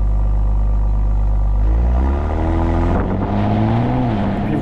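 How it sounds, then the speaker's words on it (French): A Porsche Cayenne S e-Hybrid six-cylinder engine rumbles steadily and then revs up, its deep, smooth tone rising in pitch, close and loud, with no talking. "le moteur 6 cylindres fait plutôt un joli bruit"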